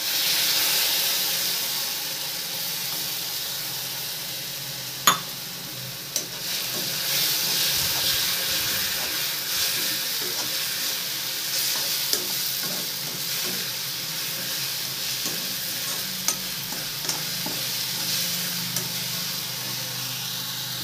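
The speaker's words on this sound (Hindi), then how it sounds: "अब मसाले को भूनने का काम है।" Chili paste masala with crushed garlic and coriander frying in a pan in a village kitchen, a steady close sizzle and hiss with occasional sharp clicks and stirring scrapes, no talking.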